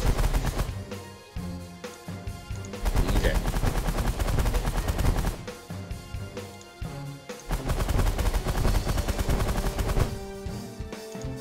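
Enemy ships fire strange weapons in the space strategy game The Last Federation, dense rapid bursts of gunfire-like blasts that swell and fade in waves, loud and continuous.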